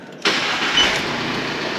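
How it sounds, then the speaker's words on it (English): A VW Amarok pickup fitted with a Kufatec exhaust sound booster system starts up: silence, then the abrupt catch of the engine and a brief rev that settles into a steady idle, close by. "so this is just the normal engine sound"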